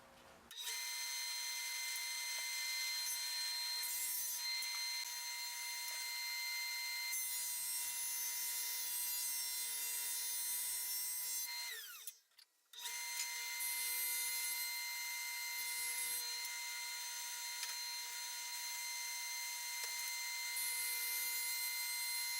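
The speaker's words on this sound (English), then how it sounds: "So time to start jointing these," A jointer runs continuously with a steady high-pitched whine while boards for a Roubo workbench are jointed, loud and close. The tone drops briefly midway as the motor slows, then returns to full speed.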